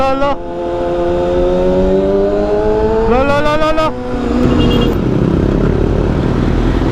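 A brand-new Kawasaki Z1 motorcycle on its stock exhaust revs up close, its engine note climbing in pitch in two loud bursts before settling into a rough idle, with voices in the background.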